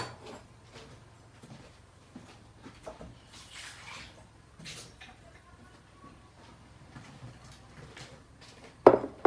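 Three large peaches are washed under water, with intermittent splashes, drips and soft handling clunks in a kitchen, fairly quiet, ending with a louder clatter.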